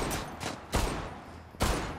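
Shots fired in the online shooter game Zula, a few sharp cracks spaced unevenly, the later two heavier and louder, over a low steady background with no talk.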